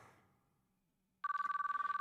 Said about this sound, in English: My phone was making a noise in my pocket.